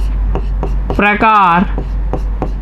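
Chalk or pen marks on a board during a Class 10 coordinate geometry lesson, several rhythmic taps and scratches before and after a teacher's brief spoken word, close and fairly loud over a low hum.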